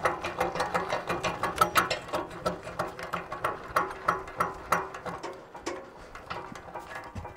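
A jack on a Wolfe Ridge 28 HO log splitter is cranked by hand, giving a close rhythmic series of metallic ratcheting clicks that slows and fades toward the end.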